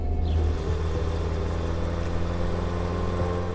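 A 1981 Dacia 1300 car drives along with a steady, low engine drone and whirring hum throughout, fairly close and even in level, with no voices.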